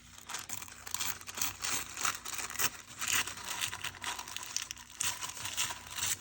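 Tissue paper torn along a ruler for collage: soft, continuous crinkling and papery rustle with small tearing bursts, close-up and fairly quiet, no voices.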